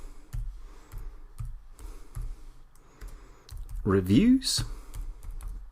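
Rapid, light clicks of fingers typing on a computer keyboard, close and fairly quiet, tapping in short irregular runs as someone speaks over them.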